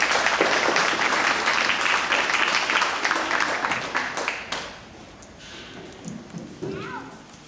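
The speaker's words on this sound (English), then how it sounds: "So let's give them a round of applause." An audience applauds at a county steer show, a dense burst of clapping that tapers off after a few seconds into scattered claps and murmuring.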